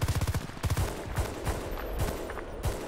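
Gunfire in the video game Battlefield: Bad Company 2, opening with rapid automatic bursts followed by scattered single shots and distant reports over a busy battlefield ambience.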